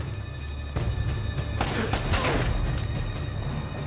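An explosion in Uncharted: Drake's Fortune bursts out as a loud crashing blast with a rumbling tail over game ambience, close and forceful.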